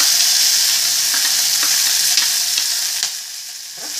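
Urad dal, cumin, ginger and green chillies fry in a pan with a loud, steady close sizzle, broken by occasional scraping stir clicks; no one speaks.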